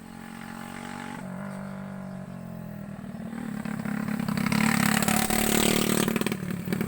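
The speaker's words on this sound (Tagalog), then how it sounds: "Grabe, ang lakas ng busis ng kanilang mga motorcycle," Motorcycles rev and accelerate in a rural provincial setting, a droning engine rising from moderate to loud over several seconds with rattling clatter and no talk.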